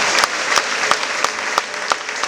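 Church congregation clapping together at a Pentecostal service, a steady dense round of applause with sharper rhythmic claps accenting it at regular intervals, loud and close with no speech.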